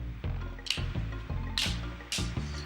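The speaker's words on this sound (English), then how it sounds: "Grab a swig of water real quick." Several wet gulping and sloshing sounds of a person taking a swig of water, close and fairly quiet, with soft bursts between swallows and no talking.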